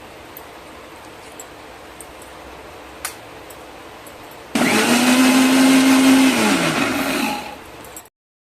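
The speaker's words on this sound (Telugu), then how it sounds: "మిక్సీలో అయితే మిక్సీ పెట్టి మనము తిప్పేసుకోవాలండి" A mixer grinder blends musk melon juice, switching on abruptly with a loud, steady whir that holds for about three seconds before winding down, after a quiet stretch with a single tap.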